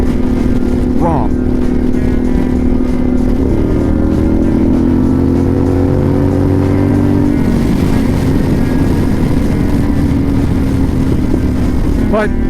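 Motorcycle cruising in sixth gear, a steady engine drone with shifting tonal hum and constant wind roar throughout, close and loud.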